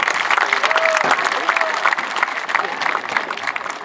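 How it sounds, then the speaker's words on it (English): A crowd at a Buckeyes meet-the-team event breaks into dense, sustained applause, loud and continuous throughout, with voices and cheers mixed into the clapping. "So big round of applause"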